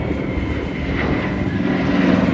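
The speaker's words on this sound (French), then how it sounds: "Le DC-3 piloté par des gamins, là, 25 ans pour les plus vieux, 2 pilotes, un navigateur." A Douglas DC-3 propeller airliner passes overhead at an air show, its engines producing a steady, loud drone that stays constant throughout, with no talk over it.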